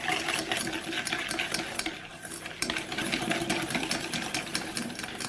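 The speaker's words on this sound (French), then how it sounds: "on bat les jaunes d'œufs avec le sucre jusqu'à ce que le mélange blanchisse" Egg yolks and sugar are beaten together in a bowl for Breton butter biscuits, a steady, brisk whisking with continuous scraping and clinking against the bowl, close and unbroken with no talking.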